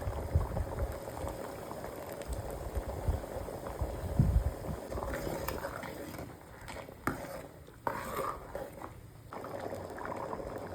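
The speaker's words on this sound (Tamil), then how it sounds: "நல்லா கொதிச்சிருச்சு" Mutton curry bubbles in a pot with a continuous close simmering gurgle, broken partway through by a few clanks and knocks.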